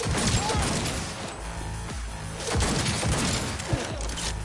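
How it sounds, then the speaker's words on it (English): Enemy gunfire in a shooter video game: a loud, dense fusillade of cracking shots and crashing impacts that runs without pause. "They're opening fire!"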